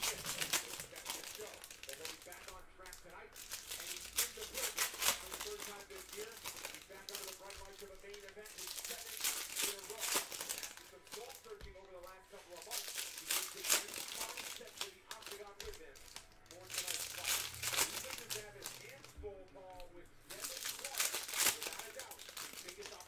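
Crinkling and tearing of 2018-19 Panini Prizm basketball card pack wrappers, close and continuous, with someone talking over the rustle.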